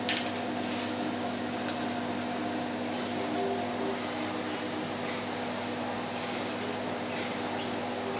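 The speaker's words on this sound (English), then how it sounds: "You want to spray it on there lightly because you want to spray a second coat on in about 10 minutes" Spray paint hissing onto the wire guard of a 1956 Western Auto Wizard Rol Aire fan in short, even bursts repeated about every second, close and steady over a constant low hum.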